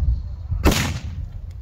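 An 8-gram FS6 Polenböller firecracker goes off in one sharp, loud bang followed by a short decaying rumble, heard outdoors at a New Year's Eve celebration.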